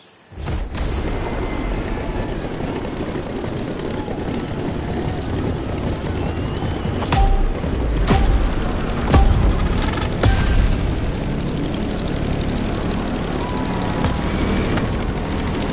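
A veteran propeller airplane in The Crew Motorfest takes off, its engine roaring loud and steady from the start, with a few louder bursts in the middle as it climbs away.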